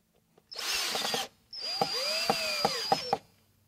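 A power drill drives screws into an underwater light fixture in two close bursts, the second ending with several sharp clicks as the motor is stopped and restarted.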